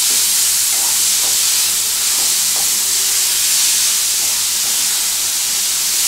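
Grated pumpkin for halwa sizzling and frying in a pan over lowered gas heat, a steady close hiss with a few faint scraping stirs, no voices.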